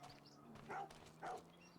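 Dogs barking in the Farming Simulator 25 video game on a Romanian farm map, two short, fairly faint barks about half a second apart over a low steady game hum.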